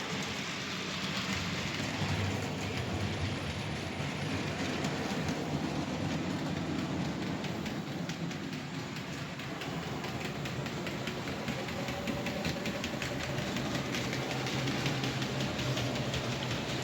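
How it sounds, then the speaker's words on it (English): A model train locomotive pulls three wagons around a track, giving a steady, continuous clattering rumble that holds at an even level throughout, with no talking. "What I'll do is I'll put them on the track and go watch them running around."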